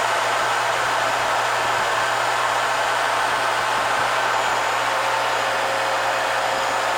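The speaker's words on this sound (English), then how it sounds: "That's your tulip type cutting blade, which is standard on the Littleford mixer." The repaired chopper motor on a Littleford FKM-130 mixer runs with its standard tulip-type cutting blade, a loud, steady, unbroken whir with a faint low hum beneath, constant throughout.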